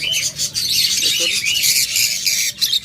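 Lovebirds and budgerigars at a bird shop keep up a loud, constant high chirping and squawking while someone talks underneath the flock.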